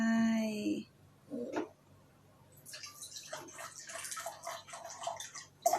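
Water is poured into a glass for a homemade lava lamp made with plain water, vegetable oil and food colouring, a soft trickling splash under faint background noise after a brief tone at the start.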